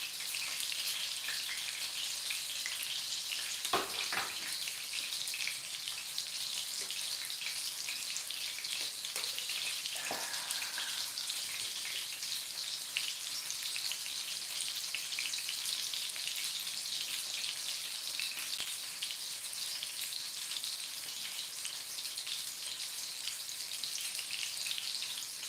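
Breaded pork cutlets (tonkatsu) deep-frying in oil, a steady, even hiss and crackle of sizzling throughout, with a few faint knocks and clinks early on.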